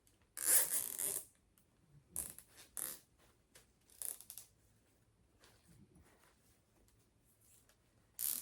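A plastic zip tie pulled tight around a deco mesh Easter wreath, giving a loud ratcheting zip near the start followed by several shorter, quieter clicking pulls and rustles, with no talk.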